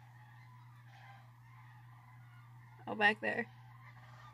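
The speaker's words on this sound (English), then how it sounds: "There's some noisy Canada geese." Two quick honking calls from Canada geese, a little distant, alongside a short spoken remark and a low background hum.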